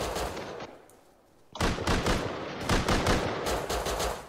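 Pipe shotgun fire in a Rust gun game match: a quiet stretch, then a sudden onset of dense, loud, overlapping shots that keeps going without a break, with no voices.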